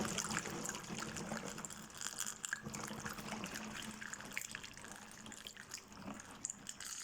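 Water pours steadily into a homemade laundry detergent mixture, about a litre and a half added to dilute it, a continuous close trickle and splash with no talking.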